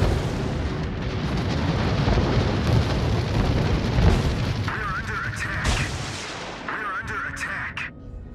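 Heavy ship artillery in World of Warships, a dense rolling barrage of booming salvos and rumbling blasts that keeps going throughout, with electronic game interface tones chirping over it near the end.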